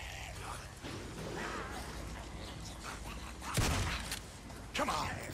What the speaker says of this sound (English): I'm gonna go with the shotgun